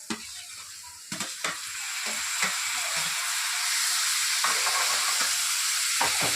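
Chopped tomatoes fry in a pan for an ivy gourd curry, a steady close sizzle and hiss with a few sharp stirring clatters at the start, no voices.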